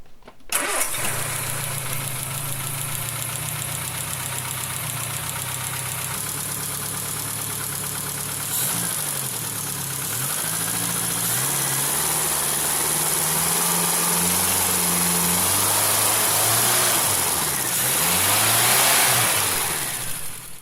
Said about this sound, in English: I got the engine running quite nicely, which you can see here